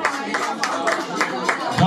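Audience clapping for the restaurant Le Chalet at a conference in Paris: a short burst of rhythmic clapping at steady moderate loudness, mixed with voices.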